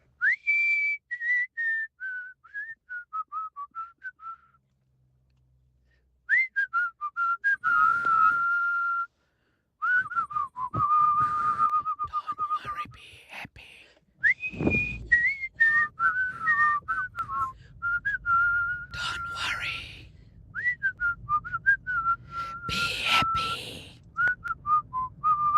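A person whistles a melodic tune in a listener's phone voice note, clear close phrases with rising and falling pitch separated by short pauses, with faint background noise toward the end.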